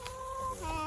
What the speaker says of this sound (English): Bye-bye, chickens.